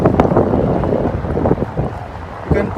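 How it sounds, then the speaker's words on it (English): Heavy wind buffeting the microphone in loud, continuous rumbling gusts at a lakeside viewpoint over Lake Washington, with a brief muffled voice underneath. "It's really windy today."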